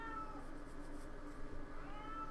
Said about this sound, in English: I have no idea if you can hear him meowing.